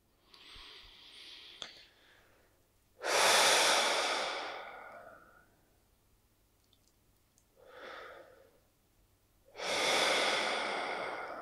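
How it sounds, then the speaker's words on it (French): Slow, deep breathing during a guided meditation, with three strong, forceful sigh-like exhales spaced several seconds apart and a softer breath between them, close and clear with no talking. "prendre quelques plus grandes respirations, en particulier les expires sont plus toniques, plus fortes"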